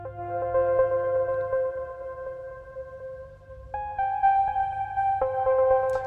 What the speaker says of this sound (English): So in good old Multiphonics, I found this patch called Alternating Current,